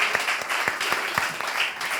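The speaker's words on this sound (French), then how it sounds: "est-ce qu'on peut les applaudir chaleureusement, les encourager?" A church congregation at a morning service gives warm applause, a steady wash of many hands clapping at moderate distance with a few sharper individual claps.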